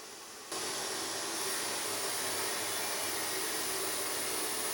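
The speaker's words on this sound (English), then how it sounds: "Time to cut the sandstone into smaller pieces" Power saw cutting sandstone into smaller pieces for a 1:10 architectural model, a steady, loud broadband whine that starts abruptly after a brief quieter moment and runs on continuously, with no talking.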